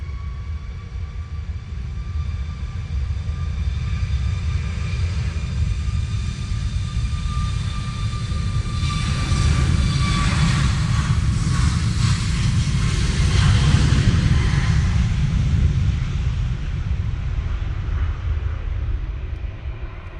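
Boeing 737 MAX airliner at Manchester Airport in wet, windy weather, a steady loud engine roar with whining tones that swells toward the middle as it passes close, then holds as a broad rumble with no talk.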